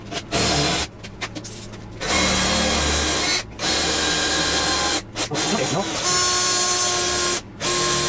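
Power drill boring holes for a motorcycle license plate holder on a Suzuki M1800R (M109R), whirring in several sustained bursts with short pauses, loud and close while people talk.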